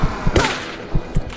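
Gunfire in the survival video game Kona, heard as several sharp low thumps spaced irregularly, with one louder burst near the start, fairly close and with no talking.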